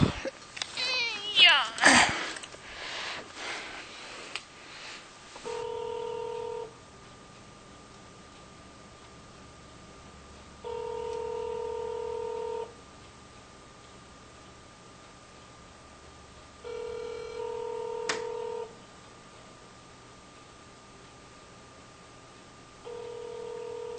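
Telephone dialing tones sound in short, clear electronic bursts, repeating at regular intervals of several seconds over a quiet line hum, after a loud, noisy start of handling sounds.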